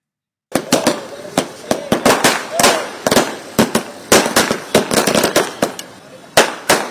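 Firecrackers burst at a street celebration by BJP workers in Kerala marking the Modi government's swearing-in, a loud, close, rapid string of sharp cracks and pops following one another without pause.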